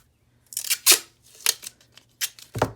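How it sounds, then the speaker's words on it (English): Strips of tape tear and press down onto the pages of an altered book junk journal, giving several short crackling rips in bursts, close by and fairly quiet, with no talk. "So I am going to tape it"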